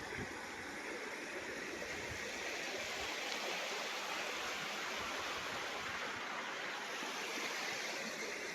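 Continuous rushing water of a river flows evenly throughout, a broad steady hiss with no pauses or voices.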